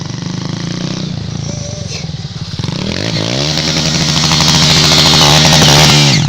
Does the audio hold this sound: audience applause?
no